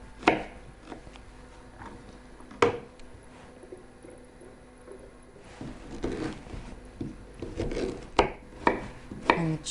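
Ginger is chopped on a cutting board, scattered knife thuds, some single and some in quick bursts, mixed with soft rubbing and scraping, up close with no voices.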